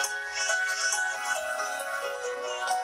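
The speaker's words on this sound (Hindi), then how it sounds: "फोन आ रहा है" Phone ringtone ringing at a roller hockey skating practice at Aligarh Muslim University, a steady melodic electronic tone pattern sounding alone at moderate volume for about three seconds.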